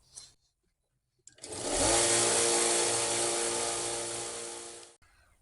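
A power sanding tool grinds paint off the plastic jewel of an original Xbox console, a loud steady whirring drone that starts abruptly, holds for about four seconds close up, and cuts off sharply.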